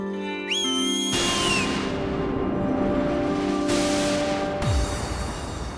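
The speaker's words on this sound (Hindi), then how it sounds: "माफी मांगने के लिए सीटी बजाई थी।" A whistle blown in a comic fantasy TV scene, a rising shrill tone near the start followed by sustained bright tones, heard over loud background music and effects.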